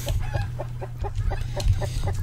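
Repeated short clucks from chickens in the video game Terraria, evenly spaced and fairly close, run over a constant low background hum from the game.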